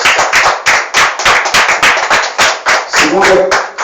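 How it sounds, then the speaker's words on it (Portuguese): Congregation clapping in rhythm during a Portuguese-language church restoration service, loud and steady beats close by, with a voice speaking over the last second. "Salve de palmas, Senhor."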